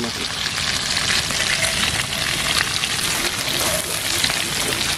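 Dry red chillies, whole cumin and a little garam masala sizzle steadily in hot oil previously used to fry fish, a dense, continuous crackling hiss that holds loud and even throughout with no talk.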